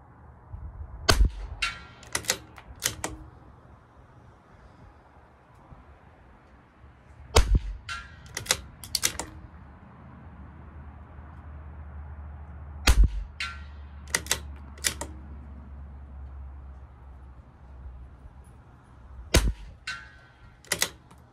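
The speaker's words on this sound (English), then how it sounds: "I'm just going to do 4 more shots, same hold." A CZ 457 LRP rimfire rifle fires at an outdoor rifle match. Four sharp, well-spaced cracks come several seconds apart, each followed by a few smaller snaps, over a quiet low background hum.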